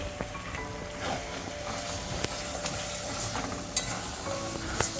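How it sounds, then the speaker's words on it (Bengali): Goat meat fries in a pan with a steady, moderate sizzle, broken by occasional sharp clicks and scrapes of stirring, heard close. "আর একটু ভাজা করব।"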